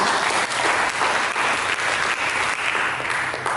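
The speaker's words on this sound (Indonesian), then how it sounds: "Berikan tepuk tangan bagi Yesus." A church congregation bursts into loud, continuous applause for Jesus during a sermon, a dense wash of many hands clapping with no talking over it.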